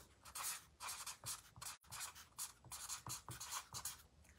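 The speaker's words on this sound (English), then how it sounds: "Get out your Sharpie." Sharpie marker squeaks and scratches across paper in quick repeated strokes, close and fairly loud, with no voices over it.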